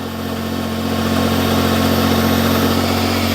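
A Smart Fortwo 450 engine idling just after a starter motor change, with a steady, loud mechanical drone and low hum that holds constant throughout with no speech.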